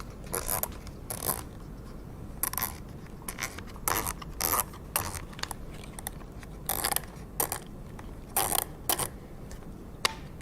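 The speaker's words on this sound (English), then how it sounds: "There's a little knob here to release the sprayer. Simply unscrew that." A sprayer release knob on a P100 gyro is unscrewed, giving repeated close, quiet ratcheting clicks and scraping mechanical sounds in irregular bursts with no talking.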